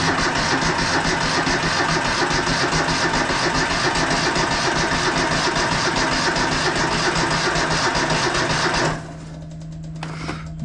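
A small tractor engine clatters steadily under full choke with a little throttle, a loud close mechanical drone that drops away sharply near the end, leaving a quieter low hum.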